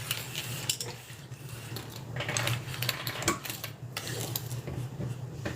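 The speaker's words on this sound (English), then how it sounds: "we're going to sew all the way around" A sewing machine stitches all the way around a fabric piece with a heavy quarter-inch seam allowance, making a steady, fairly quiet mechanical whir with small clicks throughout.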